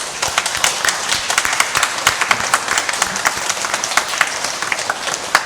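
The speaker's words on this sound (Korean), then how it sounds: "박수로 환영하면 좋겠습니다" A church congregation at Sunday worship claps to welcome new members, a loud, dense burst of close hand claps with no talk over it.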